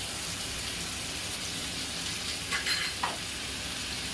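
Steady hiss of a puree sizzling as it is added to spices crackling in hot oil, with a couple of brief louder spatters near the end.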